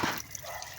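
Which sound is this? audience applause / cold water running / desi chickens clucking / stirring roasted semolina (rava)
cold water running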